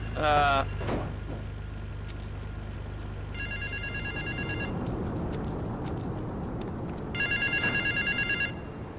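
A telephone rings in Grand Theft Auto III, in two separate bursts of electronic trilling over low background game ambience, with a brief clatter at the start.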